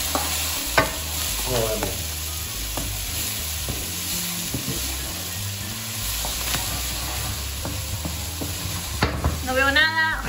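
Chopped onion fries in a generous splash of olive oil with a pinch of salt, giving a steady sizzle broken by repeated stirring scrapes and clatter. A voice speaks briefly near the end.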